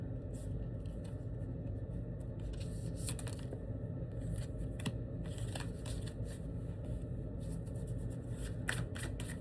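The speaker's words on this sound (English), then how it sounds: "let me pull a couple of clarifying cards from this deck" Tarot cards are shuffled and pulled from a deck close to the microphone, with a steady riffling and flicking texture and crisp snaps of cards over a faint low background hum.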